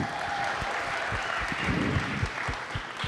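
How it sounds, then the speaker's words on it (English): Audience applause at a military spouse employment summit, a soft, distant-sounding steady patter of many hands clapping with a few individual claps standing out. "Please give a round of applause for Lakeisha Cole."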